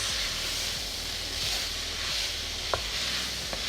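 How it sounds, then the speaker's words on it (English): Vegetables coated in curry powder or garam masala sizzling in a pan while being stirred, a steady close hiss throughout with a couple of small spoon taps near the end, no talking. "Stir that to coat it in those gorgeous spices"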